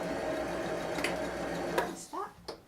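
A sewing machine runs a quick back stitch on a skirt made from Simplicity pattern 8673, a steady close mechanical whir that stops near the end, followed by a few faint handling noises.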